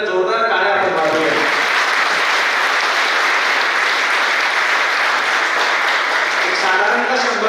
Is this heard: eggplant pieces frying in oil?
no